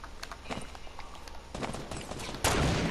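Bursts of covering gunfire from a video game crackle in quick volleys, growing denser and louder toward the end, with no talk over them.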